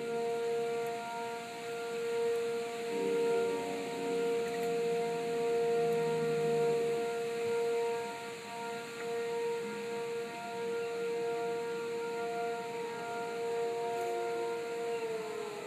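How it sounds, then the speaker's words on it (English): An ASC Cyclone civil defense siren at Three Mile Island wails continuously in the distance during a siren test, a sustained steady tone holding for the full stretch with faint background rumble. "There goes the siren."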